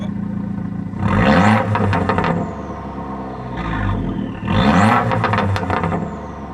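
An Abarth 695 70° Anniversario exhaust revving in sport mode, two loud close throttle blips rising and falling with crackling burble between them, heard up close behind the car.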